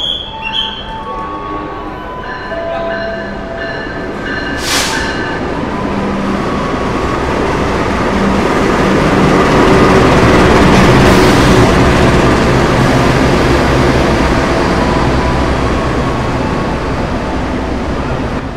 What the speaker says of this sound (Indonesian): Tadi itu lokomotifnya CC 206 1394 milik Depo Bandung.